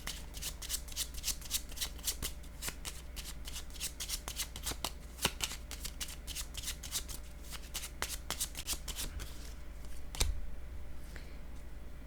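Oracle cards are shuffled and drawn by hand during a reading, a fast stream of crisp riffling flicks close up, then a final slap of a card before quieter handling.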